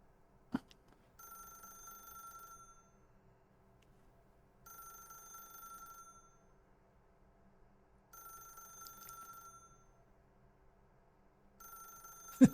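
A telephone in the video game The Stanley Parable rings four times in evenly spaced electronic bursts, each lasting about two seconds with quiet gaps between, clear and alone without speech.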